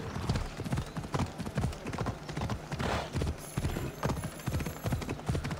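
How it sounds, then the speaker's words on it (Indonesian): Horse hooves clip-clop steadily in Assassin's Creed Odyssey as a mount trots along, a dense rhythmic patter of hoofbeats, with a faint tonal game sound entering near the end. "ayo naik kuda"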